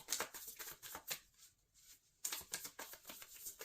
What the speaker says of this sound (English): I shuffled for a long time there.